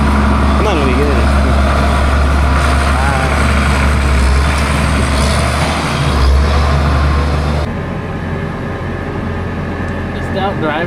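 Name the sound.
vehicle driving on the road to town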